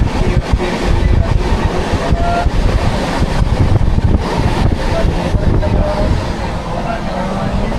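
A long-distance passenger train between Thrissur and Delhi rolls along near Ottapalam, heard from inside the carriage as a loud, steady rumble and wind roar with faint clacks.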